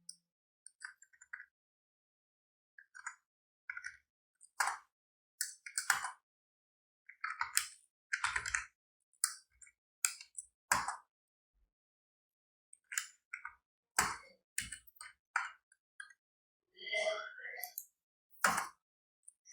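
Someone types C code on a computer keyboard, producing short bursts of quick, close key clicks separated by silent gaps, with a voice occasionally heard in between.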